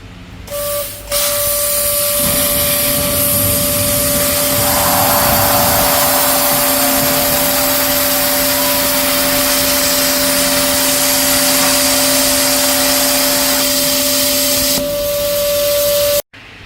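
CNC plasma cutter with torch height control cutting warped steel, a loud continuous hiss and roar held at a steady pitch with a whining tone, close up, starting and stopping abruptly.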